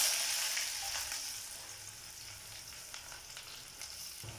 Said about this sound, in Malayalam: കടു പൊട്ടിത്തീരുമ്പോൾ നമുക്ക് അതിലേക്ക് 3 വറ്റൽ മുളകും കൊച്ചുള്ളിയും അരിഞ്ഞിട്ട് കൊടുക്കാം